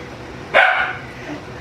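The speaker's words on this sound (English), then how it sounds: "I'm so sorry about my dogs," Several dogs bark in a short, sharp burst from nearby in a home kitchen, then quickly fall quiet, with faint background noise around them.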